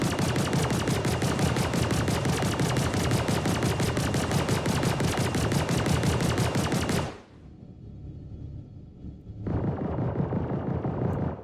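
Rapid automatic spaceship weapon fire in the video game Starlancer rattles continuously, breaks off for a couple of seconds, then resumes at the same relentless pace.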